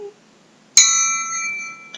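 A single bell is struck once during a children's music-awakening class. Its bright ring hangs and slowly fades, and a soft second tap follows near the end, with no voices over it.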